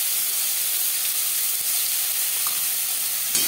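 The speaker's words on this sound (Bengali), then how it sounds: "10-15 সেকেন্ড 5 ফোড়ন ভেজে নেওয়ার পর দিয়ে দেব আদা বাটা, কাঁচা লঙ্কা বাটা।" Ginger paste and green chili paste hit hot oil after a bay leaf and five-spice tempering, for a radish and potato fish curry, producing a loud, steady, close sizzling hiss with no talking.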